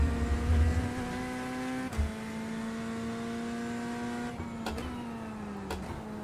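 A GT3 race car engine in iRacing whines at a steady high pitch, dipping briefly as gears shift, with a thin synthetic game-like tone throughout.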